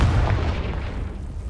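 A Confringo blast spell explodes in the Hogwarts Legacy video game, a single loud, deep boom that rumbles and fades over a second and a half.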